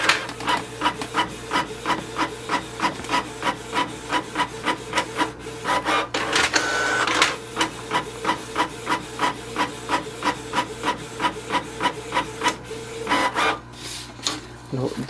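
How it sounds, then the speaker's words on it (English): A Canon PIXMA TS3400 series printer runs through a network configuration page with rapid, regular mechanical strokes and rasping feed noise, steady and close, briefly interrupted by a louder whir midway. "wait for the printer to print the page"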